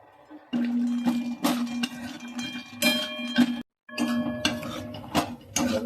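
Cashews dry-roast in a pan with almonds for dink laddoos, the spatula clinking and scraping against the metal in irregular bursts, fairly close and moderately quiet.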